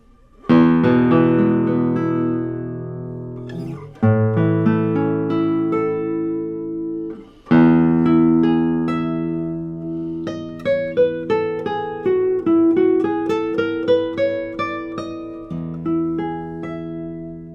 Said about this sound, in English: Immediately, I notice how much power this guitar has and how much sustain.